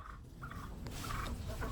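A turkey gobbling in a short burst of warbling calls over a steady outdoor background, fairly close.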